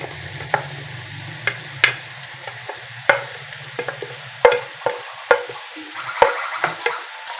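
Potatoes are stirred into samosa masala frying in a pan, giving repeated sharp scraping knocks of a spoon against the pan over a soft low sizzle, close and irregular, with no voices.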